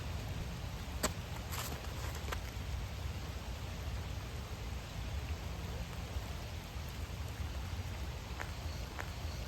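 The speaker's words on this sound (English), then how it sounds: "with the rain that's coming down" Rain falling steadily outdoors near water during a disc golf outing, a constant soft wash of drops with a few faint clicks, no voices.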